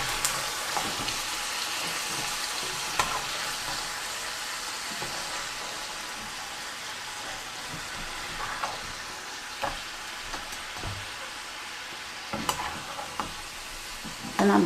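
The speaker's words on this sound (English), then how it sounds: "And I'm just stirring it around like so. Get that sauce all over all of this." Fried pigs feet being stirred through sauce in a pan, a steady wet sizzle with repeated scraping and clicking strokes of a utensil, continuous and close, with no talking.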